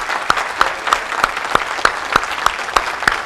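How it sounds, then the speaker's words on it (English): Sharp, evenly spaced claps ring out about three times a second over steady background noise, a small church group applauding at a measured pace. "I'd like for you to give these three a round of applause for the hard work."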